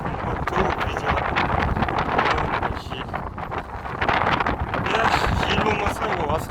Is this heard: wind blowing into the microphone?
yes